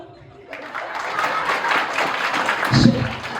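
Guests at a children's birthday party stand and clap. The applause starts abruptly after a brief quiet moment and holds as a steady, moderately loud patter, with faint voices and a soft thump near the end.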